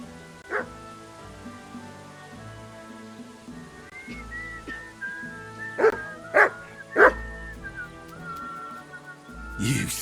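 Dog barking in the medieval game Kingdom Come: Deliverance II, a few sharp barks amid rain and ambient music, with a voice speaking.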